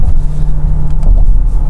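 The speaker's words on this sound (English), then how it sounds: "this car can handle all those little bumps without any problem" A 2021 Kia Sorento Hybrid SUV rolls over small road bumps, a loud, steady low rumble of tyres and cabin noise with a few soft thumps from the bumps and no voices.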